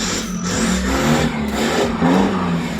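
A modified 2016 Isuzu D-Max X-Series 1.9 pickup engine revs loudly and close, its steady mid-pitched drone surging in a few throttle swells over about three seconds with no talking.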